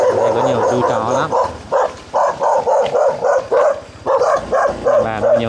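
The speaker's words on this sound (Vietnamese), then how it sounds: "Đấy, đây có nhiều chú chó lắm." Many dogs bark in rural southeastern Vietnam, with repeated loud, close barks and yips in overlapping bursts that keep going throughout.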